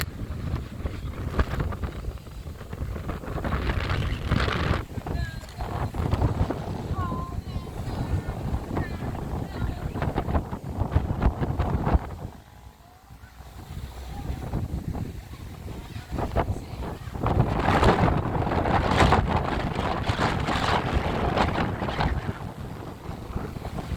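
Strong seaside wind buffets the microphone on a rocky island coast, a loud continuous roar with gusts rising and falling, briefly easing midway before building again.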